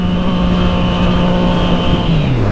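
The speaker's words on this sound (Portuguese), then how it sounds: "E a moto toca o canhão, né, mano? Você acelera, ela empina" A motorcycle engine roars loudly and steadily under hard throttle as the bike pulls up onto its rear wheel in a wheelie, its pitch holding and then sliding lower near the end, with no voices.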